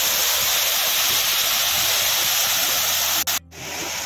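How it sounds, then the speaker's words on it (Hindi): A tall waterfall near Gangnani pours with a steady, broad roar of falling water, loud and close, cutting out abruptly near the end. "एक झरना आता है। काफ़ी सुंदर झरना है और काफ़ी ऊंचाई से आता है ये झरना।"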